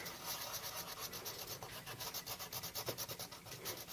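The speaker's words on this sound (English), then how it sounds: "you are going to use the burnisher to burnish in all of these areas" Burnisher rubbed with hard pressure over coloured pencil on paper, a steady close scratchy rubbing with quick back-and-forth strokes, quiet and continuous.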